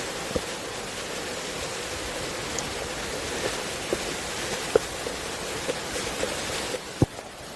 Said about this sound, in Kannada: ಫುಲ್ ಅಂದ್ರೆ ಫುಲ್ ಮಳೆ ಆಗತೈತಿ